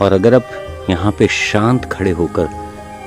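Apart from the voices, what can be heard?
No everyday noises stand out.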